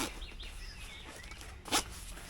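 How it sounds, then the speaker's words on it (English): A front zipper on a long-sleeve neoprene top is pulled open with one quick, close zip, with soft rustling of the fabric around it. "unzip at the front."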